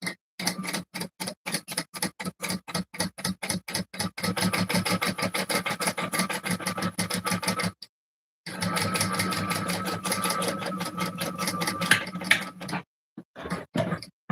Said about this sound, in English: Sewing all layers together.